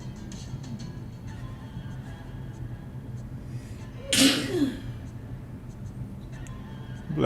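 A single sharp sneeze bursts out over a steady low background hum, loud and close, followed by a short trailing breath.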